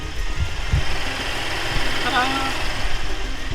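Chevrolet Colorado pickup engine idling after a serpentine belt and tensioner replacement, a steady low mid-pitched hum running evenly throughout at close range, with a few brief knocks near the start.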